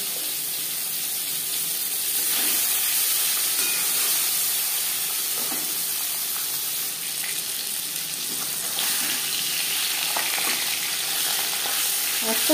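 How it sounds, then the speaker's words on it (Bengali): Pabda fish sizzling in three spoons of hot refined oil, a steady close crackling hiss with bursts of spitting and occasional stirring scrapes, no voices. "3 চামচ রিফাইন্ড অয়েল গরম করে নিয়েছি। দিয়ে দেব মাছ। পাবদা মাছ ফাঁকে একটু সাবধানে ভাজতে হবে।"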